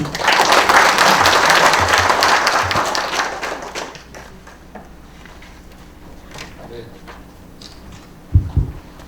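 An audience at a museum concert in Pocheon gives loud, dense applause to welcome the host, which tapers off after a few seconds into room noise, followed by a brief thump and a voice.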